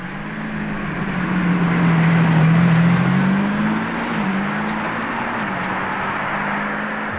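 A Lamborghini Revuelto approaching, its engine a steady loud drone that swells over the first few seconds and holds, with slight pitch shifts as it nears.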